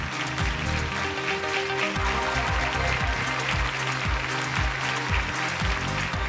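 Sustained audience clapping welcomes competing teams at a business-idea pitch event, layered over loud music with a steady, thumping bass beat, continuous throughout.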